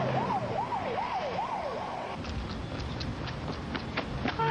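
An ambulance siren wails in a rapid rising-and-falling sweep, then shifts to a faster yelp pattern with short whoops, fairly close over road noise.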